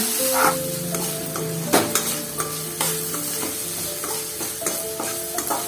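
Tomatoes with vegetables and capsicum sauté in a pan for idly upma, a lively close sizzle broken by repeated clinks and scrapes of a spoon stirring against the metal.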